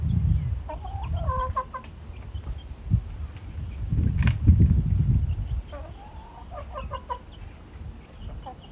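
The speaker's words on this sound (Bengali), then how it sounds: "পিছনে আসলে মুরগিগুলো কাজই করতে দেয় না" Backyard chickens cluck in short repeated bursts at close range, with a brief louder squawk midway and low scuffling noise underneath throughout.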